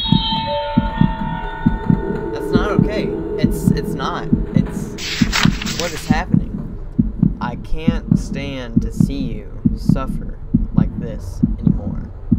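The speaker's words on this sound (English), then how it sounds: "Stop the heartbeat." A looping heartbeat sound effect in the horror game The House 2 throbs in steady low double beats under a hum, while a person talks over it with other eerie game noises.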